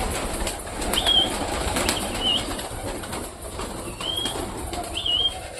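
Pigeons flap their wings as they fly into a house, giving soft fluttering bursts over a steady background, with a few thin chirps scattered between them.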